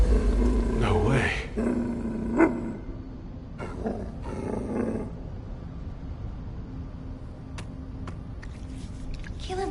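A dog-like creature in the video game The First Descendant lets out a deep roar and growl near the start, followed by quieter game ambience with a few brief sharp effects.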